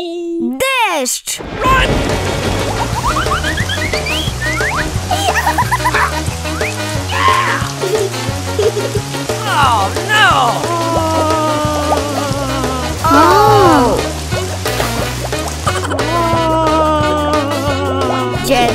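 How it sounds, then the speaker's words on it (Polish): A thunderstorm with rain in an animated children's story: loud continuous rainfall with thunder rumbling, mixed with music and bright sound effects throughout. "Deszcz!"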